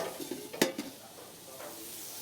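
Mushrooms stirred in a heavy black cast iron pan, a faint frying sizzle under a few close scrapes and one sharp clack of utensil on metal, then a steady low hiss alone.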